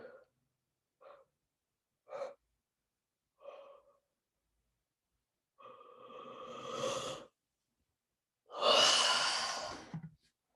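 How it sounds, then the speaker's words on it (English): Slow, deep breaths drawn in and let out during a guided meditation, starting as short soft puffs and building to two long, loud inhale-exhale swells near the end, with no talking. "Breathe it in."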